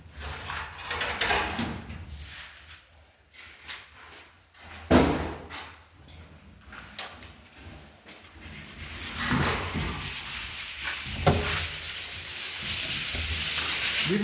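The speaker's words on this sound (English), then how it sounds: "The sanding is going on." Gypsum ceiling in a master bedroom is sanded ahead of the undercoat, with rough scraping strokes that come in uneven bursts, a few knocks and bumps, and an indoor construction echo.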